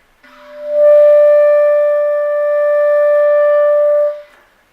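One long clarinet E swells in and holds steadily for several seconds, then tapers off cleanly; the instrument plays alone.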